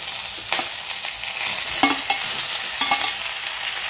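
Onion and tomato masala sautéing in a pan, a bright continuous sizzle broken by scraping strokes of a spatula at irregular intervals, close up and with no voices.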